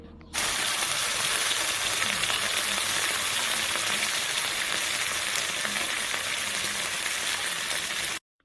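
Smoked fish (tinapa) fries with spices in hot oil, giving a steady, close sizzle and crackle that holds evenly throughout with no talking.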